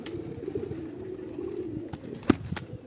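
A pigeon coos close by, a soft low murmuring that carries through most of the stretch over faint room noise, with a few sharp clicks and taps near the end.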